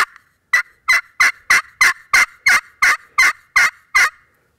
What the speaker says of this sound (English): it's hard to pick up that gobble if he's, a couple 100 yards out